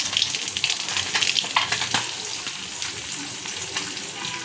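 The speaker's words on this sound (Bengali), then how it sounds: "তেলটা বেশি গরম হয়ে গেছে, এখন দিয়ে দেব কালো জিরে।" Black cumin seeds hit very hot oil in a pan with dried chillies, erupting into a loud, crackling sizzle with bursts of spitting pops that settle into a steady frying hiss.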